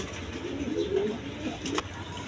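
A pair of German Beauty pigeons in cream-bar colouring, giving soft low cooing close by, with a brief flutter or rustle near the end.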